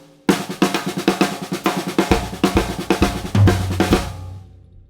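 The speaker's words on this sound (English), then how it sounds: "Paradiddle 2 we introduce in that lesson, which in straight time sounds like this" A drum kit plays the paradiddle 2 rudiment in straight time, an even, driving run of crisp strokes with kick drums thudding underneath, close and alone, ending in a ringing decay.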